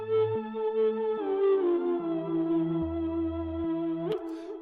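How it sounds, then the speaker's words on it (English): A sampled musical phrase with drive and delay applied plays a sequence of distorted sustained tones over stepping bass notes, with echoing repeats and a sharp burst near the end before it trails off. "And then from there, I added the delay effect."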